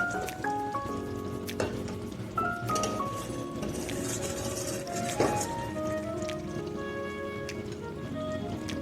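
Chicken Maharani being stirred and mixed in a pan, with clinking utensil taps against metal over a soft, steady sizzle, the scraping irregular and close.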